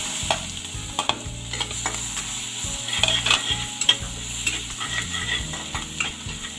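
Vegetables, garlic, red and green chilli sautéing in butter for pav bhaji, a continuous sizzle broken by repeated scraping and stirring knocks of a spoon against the pan, close and fairly loud with no talking.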